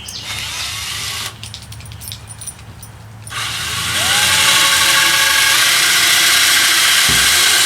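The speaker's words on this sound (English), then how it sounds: "he's getting ready to drill the holes." Power drill boring holes in a plywood dining table leaf, heard as a whirring motor that cuts in and out, then rises to a steady louder whine before stopping near the end.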